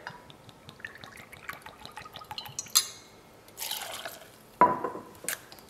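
Bourbon poured into a cocktail shaker packed with ice, a close splashing trickle with a few clinks of ice and glass, then a brief louder pour near the end.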